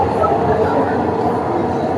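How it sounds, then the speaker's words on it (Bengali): A Dhaka metro rail train rumbles along at a steady, loud level from inside the carriage, with voices over the noise. "bye bye rail station, metro rail, bye bye metro rail"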